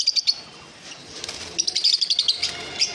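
Yellow Fischer's lovebirds kept at a home chirp in bright, rapid clusters of high tweets, with wing flutters and scattered calls from several birds nearby.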